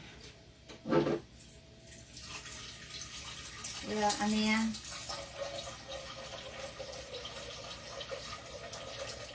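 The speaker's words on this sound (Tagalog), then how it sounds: "Naglalagay lang ako ng tubig dito sa ano, kaldero" Tap water pours into a cooking pot in a home kitchen, a steady splashing flow that swells briefly in the middle, while a voice speaks over it.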